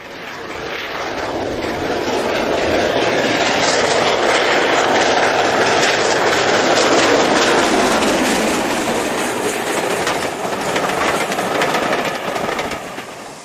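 Steam locomotive 90775 thunders past line-side mail apparatus during a high-speed mail pickup on the former Great Central Railway, a loud sustained rush of rolling train and clatter that builds, holds, then eases slightly, with no talk.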